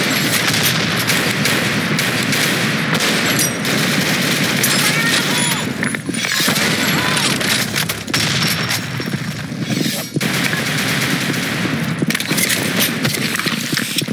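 Dense video-game gunfire in a bomb-planting shooter match, with rapid volleys of shots crackling almost without pause, loud and close, mixed with game announcer voices.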